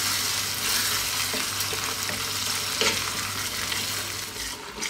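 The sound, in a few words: meat sauce simmering in a pan, stirred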